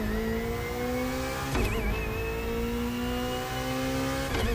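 A BMW i8 plug-in hybrid sports car in a racing video game revs hard in a steady, rising engine drone, with two quick shift breaks before it climbs again.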